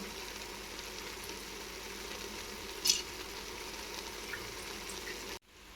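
Rava paddu fries gently in a pan with a quiet, steady sizzle and one brief crackle midway, before the sound cuts off abruptly near the end.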